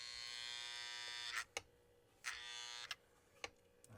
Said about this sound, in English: I hear the E unit going.